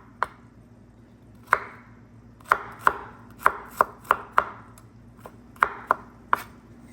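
A knife chops hefty garlic cloves on a cutting board for mushroom masala, giving about a dozen sharp, close knocks at an uneven pace with short pauses between strokes.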